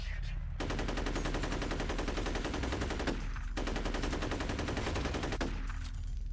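Rapid automatic gunfire in the shooter game F.E.A.R., loud, dense bursts rattling almost nonstop with two brief gaps, close and steady throughout.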